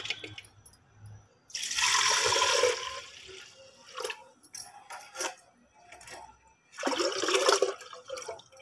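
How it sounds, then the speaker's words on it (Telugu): Jaggery dissolved in water is poured into a cooking pot in two separate splashing bursts, the first lasting about a second and the second shorter. Both are close and fairly loud, with quieter kitchen clinks between them and no talking. "ఆ బెల్లం వాటర్ అనేది ముందుగా వేస్తున్నాను."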